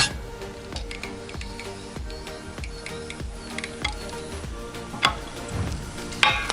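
Steady sizzling hiss from a 18650 lithium battery cell crushed in a hydraulic press, smoking, with crackling pops and a few sharper bursts near the end, close and continuous.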